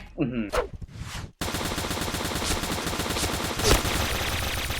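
Rapid bursts of STG44 automatic fire in a first-person shooter game, a short talky opening then continuous dense gunfire that dominates the rest, close and loud.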